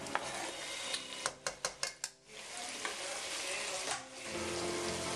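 Garlic frying in a pan with browned onions, a constant close sizzle broken by a quick run of sharp metallic taps of a utensil against the pan, then more stirring.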